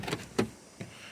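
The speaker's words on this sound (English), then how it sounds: "I'm gonna open the door. Let's open the door." Door of a Ford Focus ZX3 SVT being opened, with a short clunk near the start, a louder latch thump at 0.4 s, and two softer knocks following, close and quiet.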